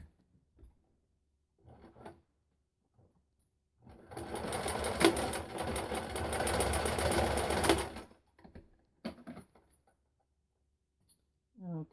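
A sewing machine stitching a shirt cuff runs in one continuous whirring burst of about four seconds, framed by quiet handling clicks and rustles before and after.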